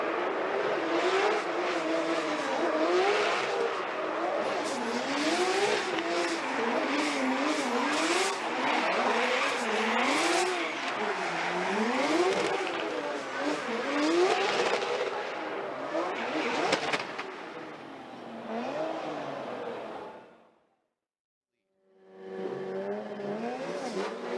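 Formula Drift competition: drift car engines, including a 6-cylinder turbo car and a Toyota GR86, wail up and down with repeated revs and squealing tires, loud and sustained, briefly cutting out near the end before roaring back.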